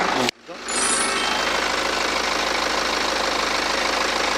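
After a sharp cut, a BMW 420d coupe's twin-turbo diesel engine settles into a steady, loud idle outdoors with an even mechanical clatter.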